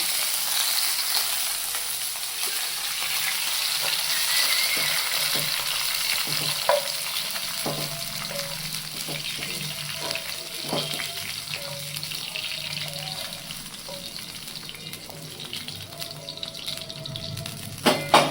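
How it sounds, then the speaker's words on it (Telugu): Green chillies sizzle steadily in a hot pan while being fried for a ridge gourd chutney, with a continuous close crackle and occasional soft clinks of stirring; no one speaks. "పచ్చిమిరపకాయలు వేగిపోయాయి"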